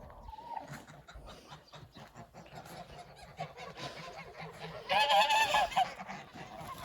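A flock of domestic geese on a small farm honks repeatedly, overlapping calls building to a louder, close burst of honking near the end.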